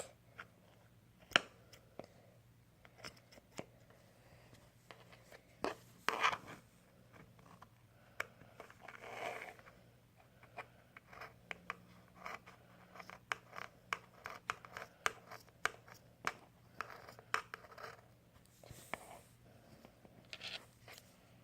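Quiet, repeated snips and crisp cuts of scissors working through fabric, close up, with soft handling rustles in between and no talk.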